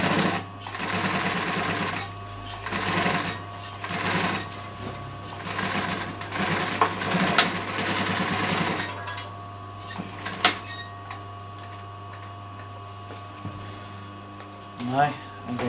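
A sewing machine lock-stitches a seam on a double-piped chair cushion, whirring steadily in bursts and pauses, then slowing to a few isolated mechanical clunks near the end, close up.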